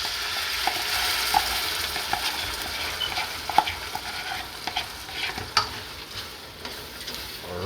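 Crumbled mackerel sizzling and frying in a pan while being stirred, steady crackling with scraping stirs and small clinks, close and fairly loud, no voices.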